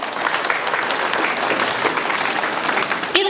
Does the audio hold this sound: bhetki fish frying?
no